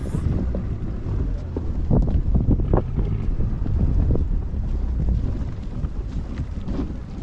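A boat's engine hums over lapping water during an island-hopping tour off Boracay, with steady wind buffeting the microphone throughout.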